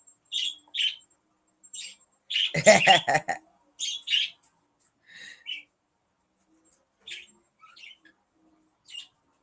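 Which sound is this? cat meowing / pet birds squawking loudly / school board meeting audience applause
pet birds squawking loudly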